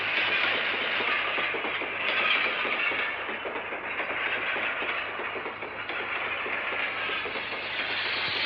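A train running steadily in a Bengali film scene, its continuous rumble and hiss carrying a faint clickety-clack of wheels over rails, loud and close for the whole stretch with no talk.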